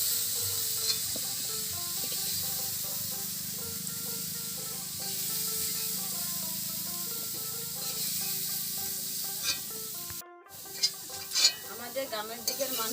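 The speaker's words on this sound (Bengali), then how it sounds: "আমি এঁচড়টা ভেজে নেব।" Jackfruit frying in a pan while being stirred, a continuous sizzle with scraping stir strokes, and a brief gap followed by louder clinks and scrapes near the end.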